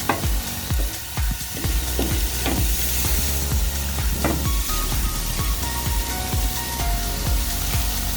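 Frozen burger patties searing on a Blackstone griddle, a loud, close, continuous sizzle and crackle with repeated sharp spatula scrapes and pops throughout, no talking.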